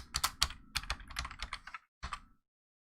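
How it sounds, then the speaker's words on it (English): Typing on a computer keyboard: a quick run of close, crisp key clicks, then a short pause and a couple of final taps before silence. "I'm going to type"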